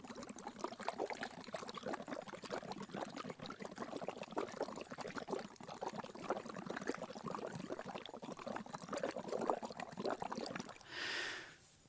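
Breath blown through a straw bubbles into a container of phenolphthalein water, a faint, close, continuous bubbling and gurgling with fluttering bursts, ending in a short breathy hiss.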